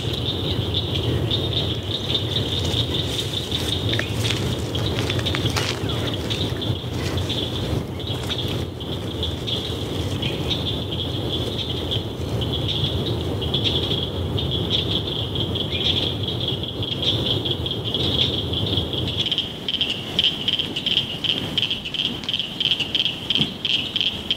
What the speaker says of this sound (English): leave you with the beautiful sounds of Nags Head Woods Preserve